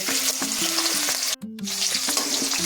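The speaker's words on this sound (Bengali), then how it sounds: "এবার সজনের ডাঁটাগুলো ভেজে নেব" Drumsticks fry in hot oil with a loud, continuous sizzle and bubbling, close by, with occasional stirring clatter and a brief gap midway.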